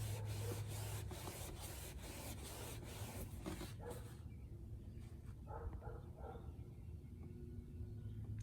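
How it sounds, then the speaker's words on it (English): Scrubbing of blue jean dye transfer on a white Tesla Model 3 seat gives repeated rhythmic rubbing strokes, faint and close, that stop partway through before quieter handling noises follow. "I'll give this a little bit more scrubbing and see how it works."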